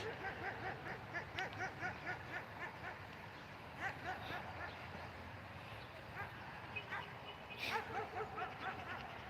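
Several yips and small barks from a dog, fairly close, scattered over steady outdoor background noise with some voices.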